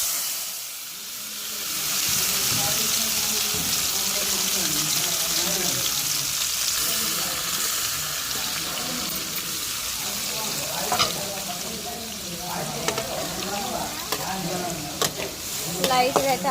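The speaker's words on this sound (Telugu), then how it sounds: "లైట్గా అయితే ఆయిల్లో ఫ్రై చేసేసుకున్నాం." Boiled prawns fry lightly in oil with a steady sizzle and hiss, joined by stirring scrapes and a few sharp crackles toward the end, close up and with no talk.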